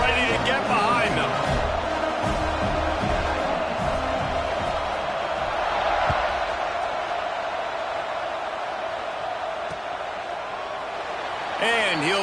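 A large college football stadium crowd at a Texas A&M game roars in a sustained wash of cheering and noise around the kickoff, with a commentator talking over it throughout.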